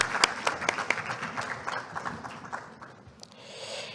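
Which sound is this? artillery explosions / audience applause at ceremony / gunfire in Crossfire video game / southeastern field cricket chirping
audience applause at ceremony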